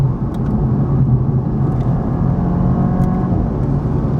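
A Toyota Supra 2.0 with a ZF 8-speed automatic is being driven on an autocross course, heard as a steady, loud engine and road drone from inside the car throughout, with no talking.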